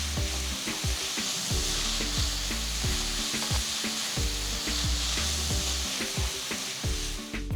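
Finely chopped onion and green chilli sauté in hot oil in a pan, a steady loud sizzle with repeated rhythmic stirring scrapes throughout, no voices.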